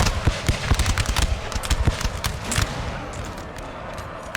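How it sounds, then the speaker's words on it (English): Musket volleys rattle across a Napoleon Total War battlefield, dense overlapping crackling shots coming in rapid irregular bursts that thin out toward the end. "Being shot at from both sides."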